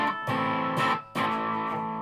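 Guitar played through a slight, bluesy distortion setting, three chords struck in a loose rhythm, each ringing out with a gritty edge and no voices.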